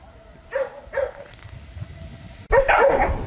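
A dog barks a few times close by, two short barks followed after a pause by a louder, longer burst of barking, with no talking.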